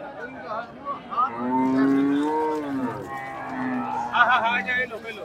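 At a cattle market, a cow gives a long, loud, drawn-out moo that rises and falls, with fainter market chatter and other animal sounds around it.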